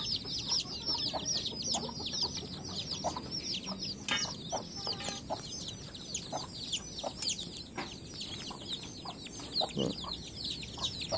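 Chickens and small chicks cluck and cheep nearby, a busy mix of repeated high peeps and soft clucks throughout, with no talk.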